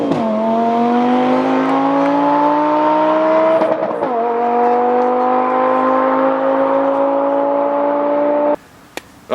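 A BMW E60 M5 at full throttle in a drag race against an Audi R8, its engine howl rising steadily through the gears with one quick shift break, loud and close, then cutting off abruptly near the end.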